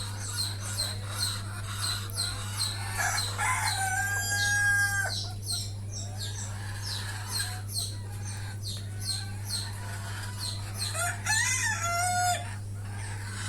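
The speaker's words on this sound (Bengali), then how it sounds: "আমার এইখানে সব কালারের মুরগি আছে।" Caged desi hens cluck and squawk in a string of uneven bursts, with a rooster crowing partway through, all over a constant low mechanical hum and no talking.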